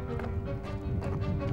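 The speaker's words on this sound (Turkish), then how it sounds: "Ayak seslerini duyuyordum hala." Footsteps of someone following behind while nearing the seashore, soft taps recurring at an uneven walking pace through a steady low background, moderately close and without talk.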